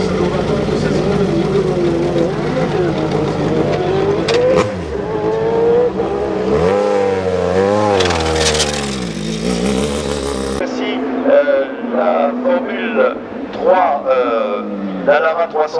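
Alfa Romeo-type race car of Swiss driver Christophe Weber climbing the Col Saint Pierre hill climb in 2016, its engine revving loudly and sweeping up and down through gear changes, close by, with people talking over it.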